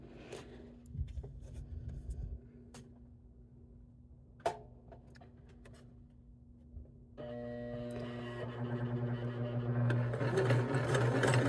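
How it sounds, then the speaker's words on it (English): A sewing machine zigzag stitches rope onto a cork coaster, starting after a few quiet clicks and taps and then running steadily and growing louder near the end. "So as you zigzag, your needle's going to go into your cork and into your rope back and forth."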